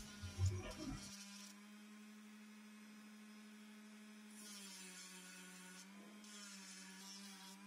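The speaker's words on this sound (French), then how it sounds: "On utilise ensuite le Dremel pour nettoyer toutes les marques de lime qu'on a laissées auparavant." A Dremel rotary tool whirs steadily with a high, even tone as it smooths file marks off a steel knife blade, running continuously at close range after a brief bump of handling at the start.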